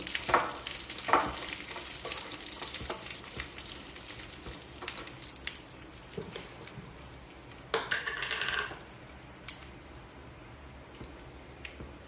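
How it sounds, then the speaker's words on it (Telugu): Dried red chilies fry in oil for a raw mango coconut chutney, a steady close sizzle with crackling pops and a brief louder burst of frying partway through. "ఎండుమిరపకాయ కూడా వేసాను"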